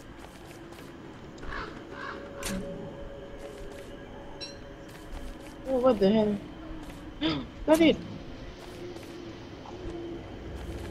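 Birds in Don't Starve Together give a few short calls and caws amid quiet game ambience, with two louder cries in the middle, while a player speaks briefly.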